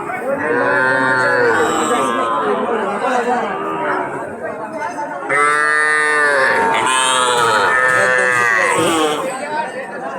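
Young calves on a farm, offered cheaply for sale, moo loudly and repeatedly nearby, their long bawls overlapping in an almost continuous chorus with a few short breaks.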